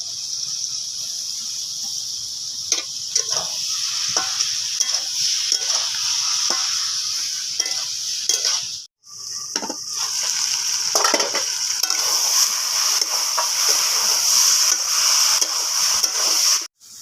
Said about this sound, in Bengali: মশলা ভালো করে আমি কষে নিয়েছি